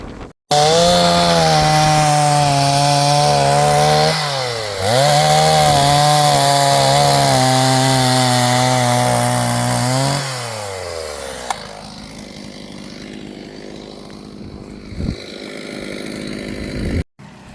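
A chainsaw roars loudly and steadily, its pitch dipping as it bites into felled tree logs on a sheep farm in Ireland, then trails off into rough grinding and scraping.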